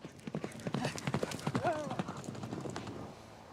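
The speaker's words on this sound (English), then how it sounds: "The festival opens with trick riding on horseback." Horse hooves clip-clop in a quick, uneven rhythm during trick riding on horseback at a festival in Badakhshan, Afghanistan, moderately close, with voices and a brief whinny mixed in.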